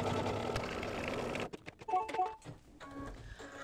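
An embroidery machine stitches an outline in yellow thread on a mug rug, making a dense, steady mechanical whir for about a second and a half before stopping, leaving scattered light clicks and handling noises.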